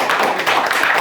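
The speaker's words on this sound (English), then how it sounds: "Clap it up." Several people clap together in a brief, dense burst, an indoor round of applause with no voices over it.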